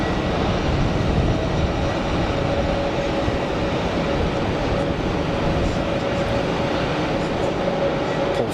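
Airbus A321neo airliner at Geneva Airport, a steady broadband engine roar with a constant low rumble and a faint whine, continuous and fairly loud with no talk.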